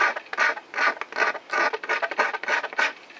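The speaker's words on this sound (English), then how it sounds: "when you scrape across, it takes the varnish off, especially if the varnish is old" Back of a utility knife scraped repeatedly across a bamboo rod blank to strip old varnish, a close, raspy scratching in steady strokes, about eight to ten passes with short pauses between them.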